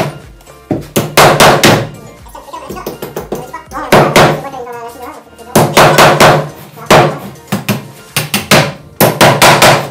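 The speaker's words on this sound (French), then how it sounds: "il suffit de taper au marteau sur les clous pour éviter de se faire mal" Hammer blows driving nails into a wooden pallet, sharp loud knocks in rapid bursts of several strikes with short pauses between, close up.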